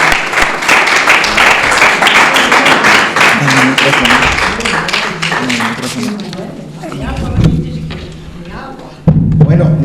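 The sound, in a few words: audience applause after a lecture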